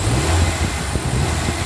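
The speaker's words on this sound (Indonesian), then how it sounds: "Suara mesinnya kita gas ya." A 1996 Honda Civic Ferio with manual gearbox revving in short bursts, a close, loud engine roar that rises and falls quickly over a brief stretch, with no talking.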